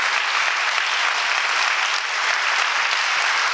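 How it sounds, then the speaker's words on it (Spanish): A parish church congregation at Sunday Mass in Táchira, Venezuela applauds, a steady, even roar of many hands clapping together without pause, full and close. "Vamos a darle un aplauso a Dios por lo hermoso que hizo la familia"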